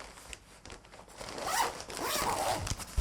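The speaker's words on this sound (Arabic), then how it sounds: "دي تاني سوستة" The zipper on a waterproof Mintra polyester backpack, made in Egypt, is pulled open in a long ratcheting rasp, close and clear, building in loudness over about three seconds.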